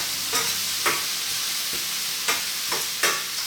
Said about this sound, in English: I can actually just saute the meat towards gold, towards brown, and then we'll shove all that into here